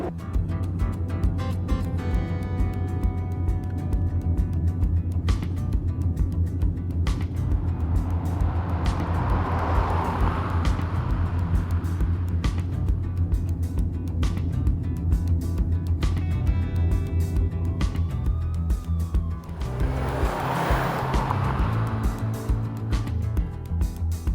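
A van rumbles steadily from inside, a low engine drone with rattling and thumping jolts as it rolls over a bad, uneven road surface.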